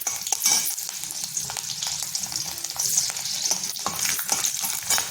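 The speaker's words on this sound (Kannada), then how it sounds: "ಹಸಿಮೆಣಸಿನ್ಕಾಯಿ ಹಾಕ್ಕೊಳ್ಳೋಣ." Green chillies sizzle in hot oil with fenugreek seeds in a pan, a dense continuous frying crackle with occasional stirring scrapes, close and fairly loud.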